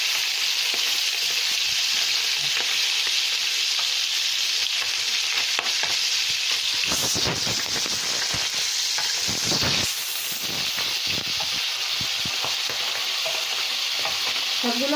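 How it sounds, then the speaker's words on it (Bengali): Sardines frying in hot oil in a village kitchen, a loud steady sizzle with stirring and occasional sharper crackles and spatters as the fish are moved and turned. "সব মাছগুলো আমি এইভাবে ভেজে নেব।"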